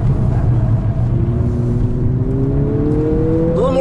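A 2020 Honda Civic with a 1.5 litre turbo engine accelerates on a race track, its loud engine note rising steadily in pitch, heard from inside the car.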